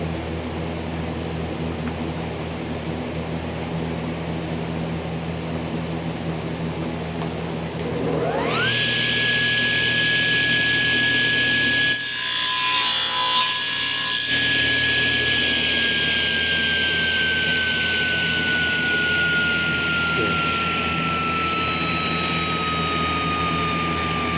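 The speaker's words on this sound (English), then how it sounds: "Now, got to plug in the saw." A power saw whines up to speed and runs with a bright, steady, slightly falling tone while cutting a piece of scrap in a workshop, with a few seconds of harsher rasping cut noise in the middle, loud and close, no talking.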